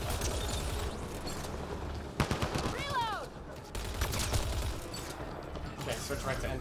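A big gun firing in the video game Mass Effect Andromeda, heavy bursts of shots amid ongoing combat noise, with a sharp cluster of blasts partway through and a brief lull after.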